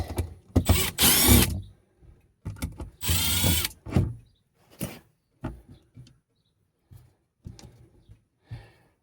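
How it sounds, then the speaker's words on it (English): A power drill whirs in two loud bursts up close, boring through a metal plate on a boat, followed by scattered clicks and clanks of metal parts being handled. "I'm going to now remove the plate, continue drilling through the hole"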